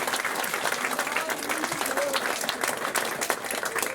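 Audience clapping at a magic club show, a continuous patter of many hands at moderate distance with light crowd murmur and a voice talking underneath.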